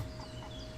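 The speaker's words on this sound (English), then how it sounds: "there's a chicken, and we can get that chicken" Brief chicken clucking in the survival video game Force of Nature, a couple of short soft clucks over a steady background hum.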